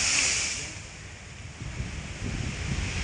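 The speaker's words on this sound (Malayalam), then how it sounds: "ഭയങ്കര തെരയല്ലേ വെള്ളം അടിച്ച് കയറുന്നുണ്ടോ" Strong waves from a rough sea crash onto a coastal shore, giving a broad, washing roar with wind buffeting the microphone. The surge eases briefly, then builds again toward the end.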